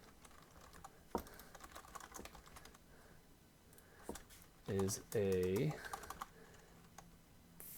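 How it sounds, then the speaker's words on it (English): Typing on a computer keyboard, soft rapid key clicks in scattered bursts close by, with a person speaking briefly in between. "So let's start by by typing that out."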